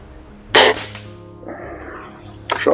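A Benjamin Sterling HR81 air rifle fires one sharp, close crack with a heavy trigger pull. A softer mechanical rattle follows, and another crisp snap comes at the very end.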